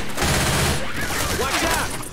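Rapid automatic gunfire in the zombie shooter game Left 4 Dead, dense overlapping shots forming a loud continuous fusillade, with game characters shouting over it.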